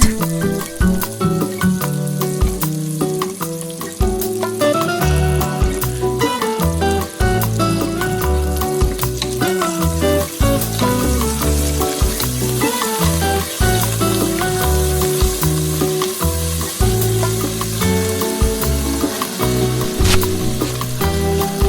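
Shrimp paste frying in a pan while cooking pakbet, a loud, steady sizzle that continues throughout, mixed with some clattering and other kitchen noise.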